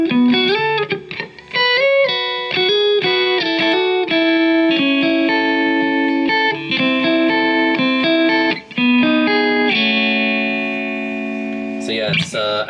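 Electric guitar through a Maxon AD9 analog delay pedal at low settings, a continuous run of plucked notes and chords with a subtle slapback trail, loud and close with no talking.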